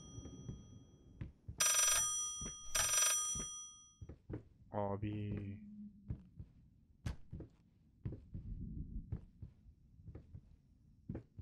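Telephone ringing in the horror video game Layers of Fear: two loud, bright ring bursts close together near the start, followed by scattered thuds, a short tonal cue and sparse game noises.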